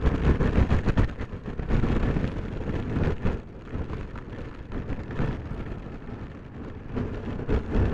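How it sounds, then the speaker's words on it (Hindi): Heavy rain and gusting wind at a Mumbai RO-RO ferry, a loud, continuous wash of downpour with rumbling wind surges, close and without speech. "बहुत बारिश आ रही है और हवा भी चल रही है"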